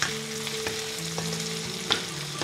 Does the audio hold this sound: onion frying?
yes